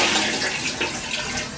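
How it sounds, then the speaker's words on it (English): A plunger swished through toilet bowl water to rinse it, giving a continuous close splashing and gurgling rush, fairly loud and unbroken, with no voices. "you're going to use the water inside the toilet bowl to rinse it off."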